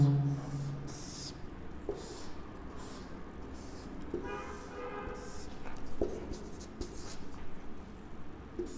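Marker or chalk strokes drawing a dice diagram on a classroom board during a reasoning lesson, a series of short scratchy squeaks with pauses between strokes, fairly close and clear.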